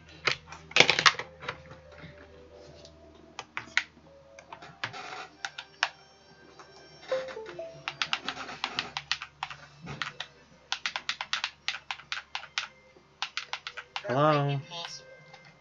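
Close clattering keystrokes on a computer keyboard come in quick irregular bursts separated by pauses, with a person talking intermittently.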